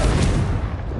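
A Confringo fire-blast spell from Hogwarts Legacy, one loud booming burst right up close that fades quickly into a rumbling tail.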